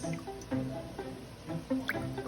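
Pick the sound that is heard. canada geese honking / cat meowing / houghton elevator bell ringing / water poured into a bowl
water poured into a bowl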